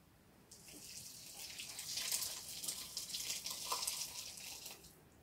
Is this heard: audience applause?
no